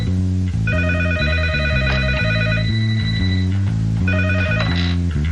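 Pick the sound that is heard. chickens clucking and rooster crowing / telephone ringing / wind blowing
telephone ringing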